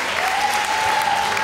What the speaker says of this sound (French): Madame Dominique Muller, que je vous prie d'applaudir